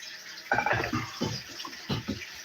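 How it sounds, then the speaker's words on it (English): Cold water runs from a tap into a container for apples during home apple-juice making, a soft, uneven splashing flow heard close by. "we're going to put some cold water here for the apples"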